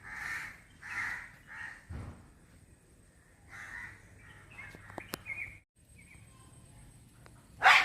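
Several loud crow caws come in a quick series early on, followed by a few fainter bird calls outdoors where a newspaper kite is being flown; no speech.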